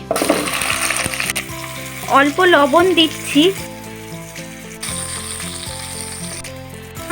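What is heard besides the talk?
halved potatoes frying in a pan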